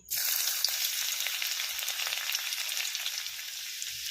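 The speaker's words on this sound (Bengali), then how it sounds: "কড়াইতে আমি সাদা তেল দিয়ে দিয়েছি এবার আমি দিয়ে দিচ্ছি রসুন কুচি" Chopped garlic sizzles in hot white oil in a wok, a loud, steady crackling hiss that starts abruptly and continues throughout with no talking.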